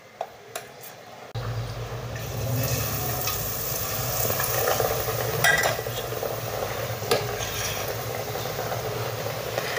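Besan-coated patties dropped into hot oil, a few light taps followed by a sudden onset of steady, bubbling frying sizzle that continues evenly, close and moderate in volume, with no talk.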